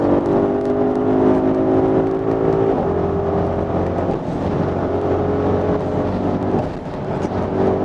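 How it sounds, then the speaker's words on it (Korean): An Audi RS Q8 with a 600 hp engine pulls at high speed, giving a steady, smooth low drone with road and wind rush heard from inside the cabin, without talk. "엔진 사운드 그렇게 거칠지 않고요, 상당히 고속에서 더 안정된 그런 느낌을 받게 되는데요"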